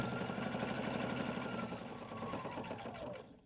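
A sewing machine runs steadily at close range while top stitching along the finished fabric edges of a project piece, a fast, even needle rhythm that slows and stops near the end, with no talk.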